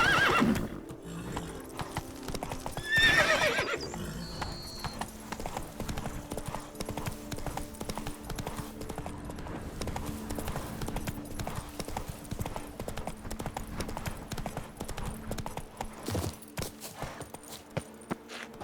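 A horse gallops with steady clip-clop hoofbeats in The Witcher 3 video game, a neigh rising near the start and continuous hooves carrying on throughout with a faint voice.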